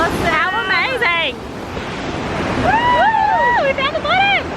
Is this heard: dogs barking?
no